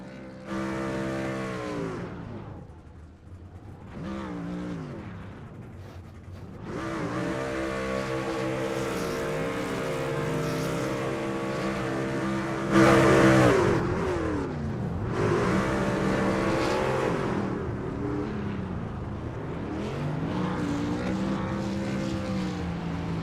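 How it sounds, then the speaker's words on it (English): Several race trucks at a Saturday night short-track event do celebratory burnouts after the World 225, loud engines revving and screaming at high pitch, rising and falling over each other for a sustained stretch. "the team all doing burnouts together as it stands"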